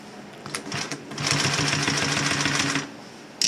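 Brother LS2 B837 unison feed lockstitch industrial sewing machine stitching through eight layers of vinyl, a steady close mechanical hum and rapid needle chatter running about two seconds after a few short starts, ending with a brief click.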